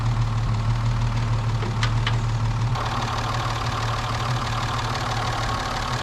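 A classic Rover P4 car engine runs at a steady idle with a faint knocking pulse, close and continuous, with a couple of brief clicks partway through and no talking.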